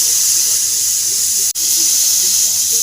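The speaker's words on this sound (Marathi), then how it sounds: "कुकरच्या 2 शिट्ट्या झाल्या." Steam escapes from a pressure cooker cooking dal khichdi in a steady, loud, close hiss that fills the whole stretch, broken by one very brief dropout near the middle.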